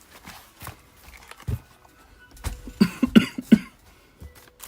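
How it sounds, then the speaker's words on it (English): A person coughs several times in quick succession, close and fairly loud, indoors at a card shop during a live card break. "Have a quick cough."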